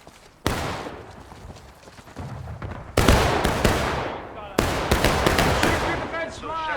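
Loud bursts of rifle and musket gunfire in the Mountaineer Campaign video game, with volleys erupting at several moments and sustained crackling fire between them, while shouted voices sound in the background.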